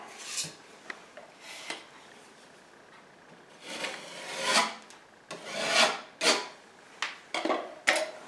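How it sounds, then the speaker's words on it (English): A flat spackling trowel scrapes excess spackle off a patched drywall hole in a series of rasping strokes, irregular and close, some quick and some drawn out, with no talk. "then you take your flat trowel like this and you just rub it off, just like that."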